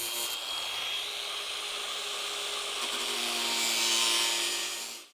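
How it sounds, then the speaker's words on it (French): An angle grinder cuts a hole in a gutter for a double-roof shelter, a loud, steady, close high-pitched grinding whine that holds for about five seconds and then cuts off. "puis je fais un trou à la meuleuse"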